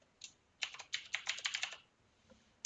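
A computer keyboard is typed on in a quick burst of about a dozen close, light key clicks, then falls quiet, with no voices.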